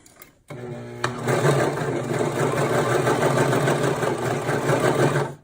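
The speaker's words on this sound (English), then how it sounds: "you want to make sure you're only sewing these 2 layers" Sewing machine stitching through two layers of fabric, a steady close mechanical whirr that starts abruptly after a brief quiet and runs continuously without pause.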